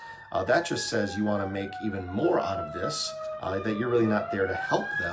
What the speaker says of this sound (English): Pardon the siren that's passing by here.